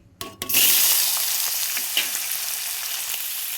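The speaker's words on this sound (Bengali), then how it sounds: "কড়াইতে তেল গরম হয়ে গেছে তো চলো এবার চিকেনগুলো দিয়ে দিই" Chicken pieces dropped into hot oil in a wok, starting with a few clunks and then bursting into a loud, steady sizzle that slowly settles, with no talking.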